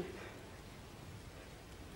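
Steady rain falling, a soft continuous hiss of drops with no breaks, moderately faint and heard alone.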